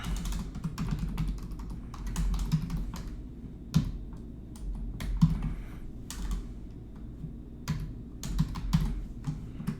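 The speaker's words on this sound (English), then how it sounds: "I'm hearing myself typing" Quiet keystrokes clatter on a computer keyboard during a live stream, an irregular run of light clicks with occasional louder taps over a low steady hum in a room, with no talking.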